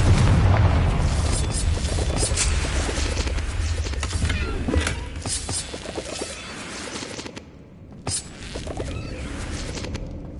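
A Confringo blasting spell goes off in a Harry Potter video game, a loud booming explosion with a rumbling low tail, followed by quieter game ambience and a second, smaller burst near the end.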